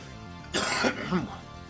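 A short throat-clearing cough, two rough bursts close to the microphone, fairly quiet against a faint background.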